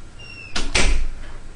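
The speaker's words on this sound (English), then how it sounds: "let me shut the door" A door is pushed shut indoors with a solid close thud and a short rattle, loud and near, followed by a faint after-knock.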